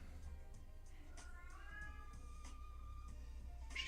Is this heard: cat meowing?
yes